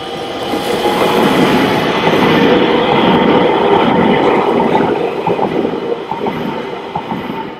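A train rolls along rail track at a station near Rotterdam's port, a steady, loud broadband rumble with faint rhythmic clatter that holds for several seconds and eases slightly toward the end, with outdoor wind around it.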